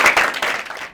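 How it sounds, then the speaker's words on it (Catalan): An audience at a forum theatre performance claps in a brief, close burst of applause that fades within a second. "un aplaudiment"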